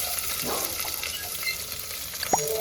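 Small onions sizzle in a pan with a steady, hissing fry. A few faint clinks and stirring sounds come through along the way.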